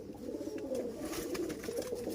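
A large pigeon with dark, purplish feet coos softly and steadily, a low continuous burbling heard on its own at moderate distance.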